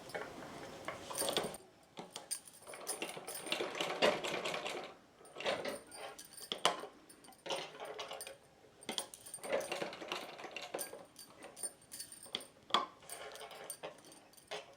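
A sewing machine stitches fabric for a Kanha ji deity outfit, its needle clattering in close, rapid bursts that start and stop repeatedly with short pauses between runs.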